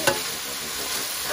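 Meat browning in a pan as its fat renders out crackles with a dense, continuous frying sizzle, close and fairly loud, with no talking.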